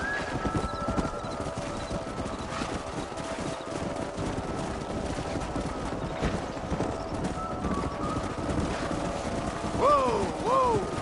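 Horse hooves clip-clop steadily in Red Dead Redemption, with a continuous rhythmic beat under background voices and a short whinny near the end.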